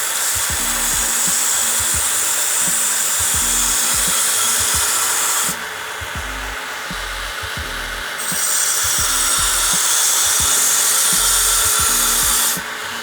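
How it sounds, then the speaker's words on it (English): Belt grinder working a thin nakiri knife blade during forging, a loud steady abrasive hiss with a motor hum underneath, briefly easing off in the middle before resuming at full intensity, close by with no talking. "because this is already thin, we're gonna start the grind"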